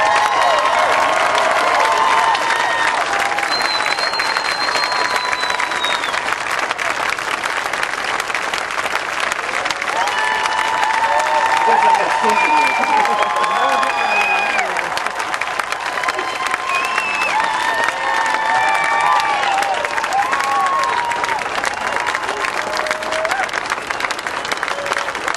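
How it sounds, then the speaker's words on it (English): Sustained audience applause at a NASA announcement at Kennedy Space Center on the homes of the retired Space Shuttle orbiters, a large crowd clapping loudly and continuously with a few cheers mixed in, filling the room for about 25 seconds. "You have no idea what that applause did for me."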